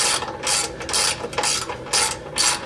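A ratchet wrench clicks in quick bursts of strokes while bolts are driven in to install RCI rock sliders on a 5th-gen Toyota 4Runner TRD Off-Road, close and crisp with brief gaps between strokes.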